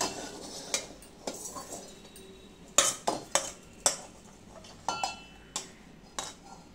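A utensil scraping and knocking against a pan as shevali is stirred while roasting, about a dozen sharp clinks and scrapes at an uneven pace, close and fairly loud over a quiet background.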